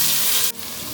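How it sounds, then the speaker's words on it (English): Chopped onion frying in a pan for a red lentil rice pulao with peppercorns, stirred until golden brown; a steady loud hiss of sizzling that drops to a softer, duller sizzle halfway through. "add onion, stir it until golden brown"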